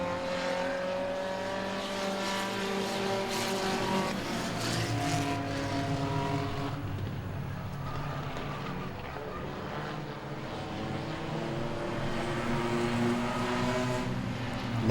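Race cars in an enduro race at Langley Speedway roar past in a steady, loud stream, their engine notes overlapping and shifting in pitch throughout.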